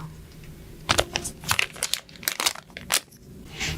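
Foam tape being pulled and torn off a roll during an eyelash extension application, a series of soft close crinkling and ripping bursts, quiet and irregular.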